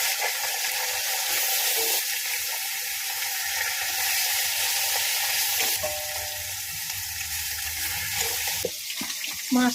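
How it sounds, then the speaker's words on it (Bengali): Fish fries in a pan of hot oil in a home kitchen, making a steady, close sizzle. A few clinks and clatters of utensils sound near the end. "মাছটা ওদিকে ভাজা হচ্ছে"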